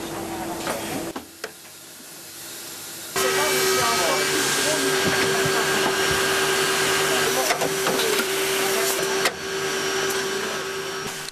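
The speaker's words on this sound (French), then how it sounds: "Cette intervention sur la branche consiste à forer au cœur de la matière un espace afin d'y loger une armature en bronze." A drill bores into an acetate eyeglass temple to make room for a bronze core, a sustained whining machine tone with a steady hum that starts after a brief quieter stretch and runs loud and continuous to the end.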